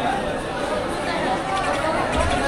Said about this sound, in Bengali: হকারদের হাঁকডাক